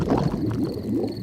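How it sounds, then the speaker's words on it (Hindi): A cartoon pig's stomach rumbles in a Peppa Pig episode, giving a low, bubbly, gurgling churn that rolls on steadily at moderate volume with no talking over it. "ये डैडी के पेट की आवाज"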